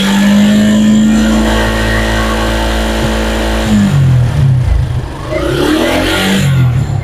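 A Suzuki Gixxer SF motorcycle idles steadily after a service, then is revved several times in quick bursts, loud and close with a throaty, uneven engine note and no talk.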